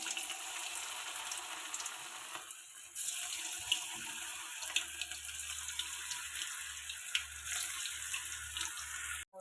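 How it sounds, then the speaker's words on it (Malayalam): Wheat flour and onion vada pieces frying in hot oil give a steady soft sizzle, with small pops and crackles throughout and no talking. "എണ്ണ ഒഴിച്ചിട്ട് വറക്കാം."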